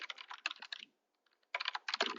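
Rapid clicking keystrokes on a computer keyboard, close and distinct, in two quick bursts separated by a brief pause with a couple of isolated taps; no talking.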